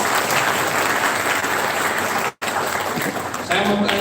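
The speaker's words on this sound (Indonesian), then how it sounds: "Tepuk tangan." Audience applause at a university public lecture on entrepreneurship, dense steady clapping from a large crowd filling the hall, briefly cut off, then resuming with a voice starting to talk over it.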